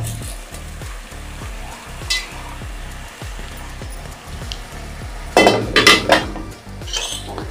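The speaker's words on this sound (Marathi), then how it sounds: "आता यामध्ये तांदूळ आणि डाळी टाकून घ्यायचे" Rice and dal tipped into a hot pot of khichdi, with clinks of a metal spoon against the vessel and a faint sizzle, a louder burst of scraping and clatter partway through, and music in the background.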